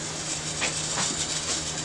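Toy Trackmaster train engine Belle running along plastic layout track indoors, a steady close whirring motor hum with faint rolling clicks, continuous and moderately quiet with no talking.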